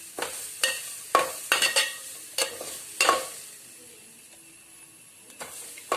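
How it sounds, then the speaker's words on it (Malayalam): A spatula stirs small pieces of grated coconut frying in a pan for a flattened rice snack, making a run of sharp, irregular scrapes in the first half that thin out to a faint sizzle before a few final scrapes. "അത് ചേർത്തിട്ട് ലൈറ്റ് ബ്രൗൺ ആവണ വരെ നമുക്ക് ഇളക്കി കൊടുക്കാം."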